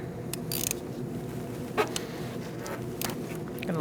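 A 10mm socket ratchet loosens the negative battery terminal nut on a 2008-2014 Mercedes-Benz C300 3.0L V6, giving soft, close mechanical clicks and scrapes against a quiet workshop background.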